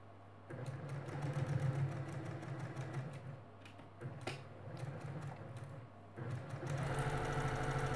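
A sewing machine stitches quilt fabric pieces with a quarter-inch seam, a close rapid mechanical whir running in bursts with brief pauses between runs.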